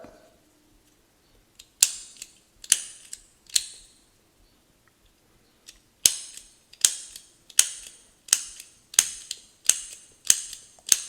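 A vintage Flat Ad automatic petrol lighter, fitted with a new flint, sparks in sharp metallic clicks: three spaced snaps, then a quicker run of about eight in a row, close and loud against near silence.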